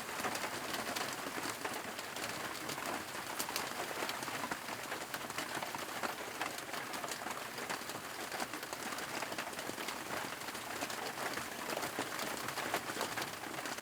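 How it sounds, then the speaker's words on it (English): Heavy rain pours down in a steady, dense hiss that holds without a break, fairly close and with no voices over it. "It is pouring."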